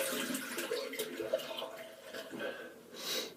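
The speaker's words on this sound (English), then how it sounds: "I'll just rinse my Wilkinson Sword" A Wilkinson Sword shaving brush is rinsed under running water from a tap, a close, steady splashing flow lasting a few seconds with no talk.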